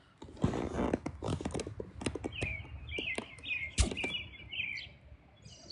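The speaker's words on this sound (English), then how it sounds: "Because he sounds beautiful, doesn't he?" Bright, chirpy bird song with repeated warbling phrases, heard fairly close amid a few sharp clicks and knocks.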